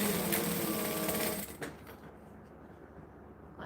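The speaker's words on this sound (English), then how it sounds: "Stitch, back stitch." A sewing machine stitching and back-stitching fabric, a loud, steady, close mechanical whir that cuts off partway through and leaves a quiet room.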